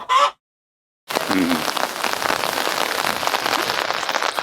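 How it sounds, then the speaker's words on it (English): Steady rain pours down in Riga, Latvia, a dense, continuous hiss of drops hitting nearby surfaces that starts abruptly after a brief burst of sound and a second of silence. "I'm struggling to keep rain off the lens of the camera."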